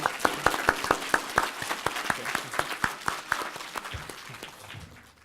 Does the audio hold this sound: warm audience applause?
yes